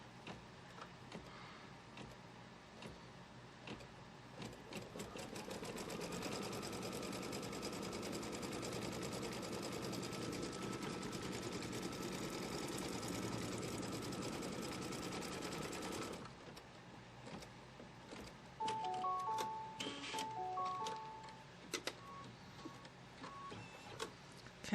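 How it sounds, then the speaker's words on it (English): An embroidery machine stitches a quilt block for a Kimberbell Pumpkins & Potions quilt, a fast, even mechanical whir for about ten seconds that stops, followed by quieter clicks and brief beeps. "It's going to stitch 1/4 of an inch on that side, and it's going to stitch a line from here to here."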